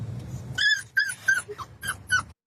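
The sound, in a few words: golden retriever puppy whimpering in front of car vent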